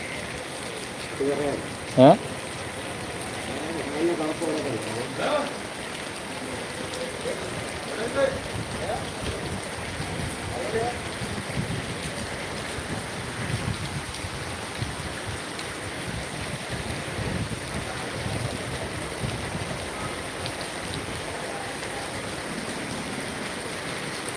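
Heavy rain pours steadily at a church festival in Aduputty, Kerala, a dense continuous hiss lasting throughout, with a few brief louder knocks near the start and people talking faintly underneath.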